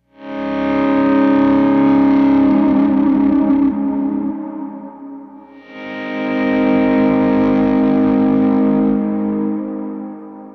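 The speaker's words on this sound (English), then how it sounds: "I'm going to try to do a swell with my hand controlling the volume pedal." Electric guitar driven through an Aspen Overdrive pedal (Case Study Effects), with volume swells worked by hand on a volume pedal: two sustained overdriven chords fade in smoothly, hold and decay, with no voices.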